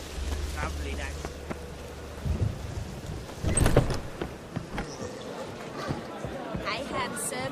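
Steady rain hisses through a storm in The Witcher 3: Wild Hunt, with a low rumble early on and a louder thunder crack swelling in the middle, under game voices.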